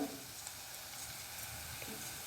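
Mung dal masala frying in a pan with turmeric and red chili, a steady close sizzle and crackle of hot oil with faint stirring scrapes, no speech.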